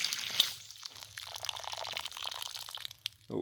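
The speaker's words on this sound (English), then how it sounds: "watch the water go down in the bed" Soft, steady trickling and gurgling of water soaking and draining down through the soil of an empty garden bed, quiet and close with faint outdoor background.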